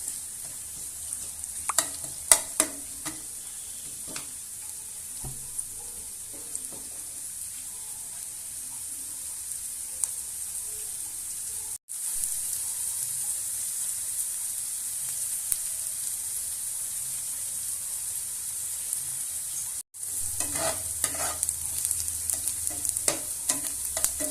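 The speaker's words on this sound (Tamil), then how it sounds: "கருவேப்பிலையை ஆட் பண்ணிக்கோங்க இப்போ நல்லா ஃப்ரை பண்ணுங்கள்" Curry leaves and garlic fry in oil in a pan for a fried-fish curry, giving a steady, crackling sizzle with occasional stirring clinks and a louder burst of frying near the end.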